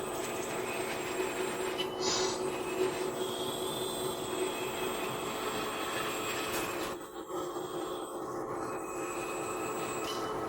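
A 1/13-scale XD model 580 RC loader drives under remote control, giving a steady close whine of small electric motors and hydraulics with a faint squealing tone, dipping briefly near the end.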